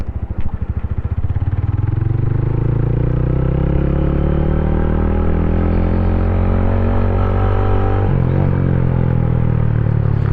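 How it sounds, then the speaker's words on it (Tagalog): A Motorstar Cafe 150 classic motorcycle engine runs close by, starting with a loping idle and revving up into a steady, rising drone, then dipping briefly near the end before settling into a loud, constant hum. "So kung naririnig niyo yung tunog ng motor natin ngayon,"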